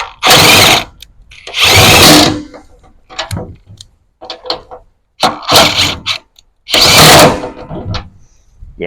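A Makita XGT 40V GWT01Z 3/4-inch cordless impact wrench spins bolts off in loud, close bursts of whirring and hammering, separated by short pauses.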